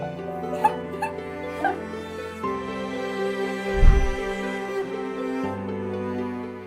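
An excited dog whimpers and yips in short bursts while greeting a soldier returning home, close to the microphone, with a louder squeal near the middle.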